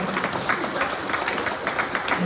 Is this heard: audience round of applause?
yes